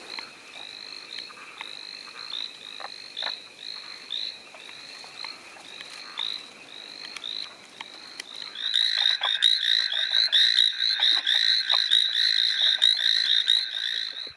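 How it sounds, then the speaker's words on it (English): Many tiny frogs call from a pond at night on Yangmingshan, Taiwan, trilling in quick repeated pulses; a second, louder chorus joins midway and the calls become dense and continuous, close by. "So you can see they're very small frogs"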